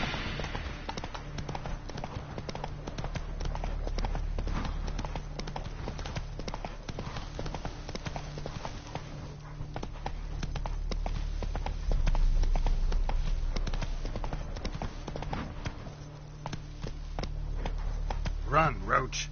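Hooves of the horse Roach clop in a rapid, steady galloping rhythm through the whole stretch in the video game Witcher 3, close and continuous, with game music and voices in the background.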